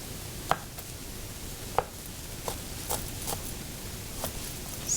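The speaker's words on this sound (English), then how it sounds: "4 cube of garlic, and I'm gonna cut it like small pieces" A knife chops garlic into small pieces on a board, a handful of sharp, sparse taps spaced irregularly over a quiet background.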